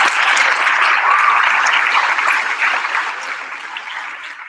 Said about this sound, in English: I am sure you're exhausted from all the clapping